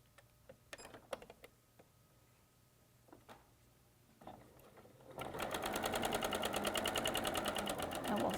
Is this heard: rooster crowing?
no